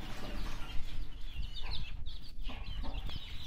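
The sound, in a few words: hen clucking with her chicks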